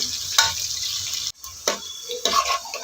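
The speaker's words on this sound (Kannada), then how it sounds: "ಈರುಳ್ಳಿನ ಮಾತ್ರ ಚೆಂದ ಗೋಲ್ಡನ್ ಬ್ರೌನ್ ಬರುವ ಹಾಗೆ ರೋಸ್ಟ್ ಮಾಡ್ಕೋಬೇಕು" Onions frying in a pan until golden brown for kushka rice, with a soft steady sizzle broken by a few scraping stirs and a brief pause partway through.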